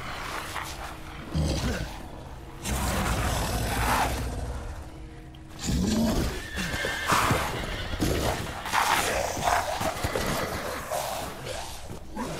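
Horses neigh and whinny loudly in the Resident Evil Village video game, with clip-clopping hooves and growling creature sounds in repeated bursts over a dark ambient background.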